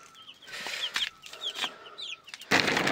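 Chickens and chicks cluck in short, close bursts over a few seconds, ending with a louder rustle or flap of wings.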